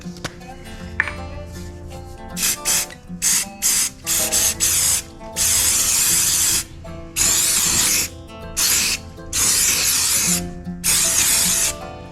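Activator sprayed from an aerosol can onto a resin pour for a standing lamp hood: repeated short hissing bursts, some brief and others lasting a second or two, close and loud, with no talking.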